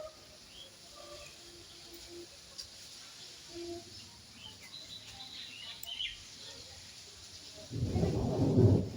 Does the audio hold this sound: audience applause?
no